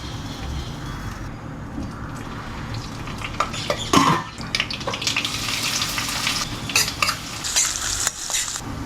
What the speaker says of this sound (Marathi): तर हातूंत कांदो, मिरसांग, करीपत्ता, मीठ, साखर, सासम ह्या पुरो घालून लायकोन फ्राय करतास.